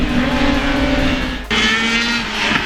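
Superstock motorcycles launch at the start of a WERA race on a wet track at Talladega Grand Prix, a loud, dense engine roar from a pack of bikes that briefly dips then surges again as they pull away.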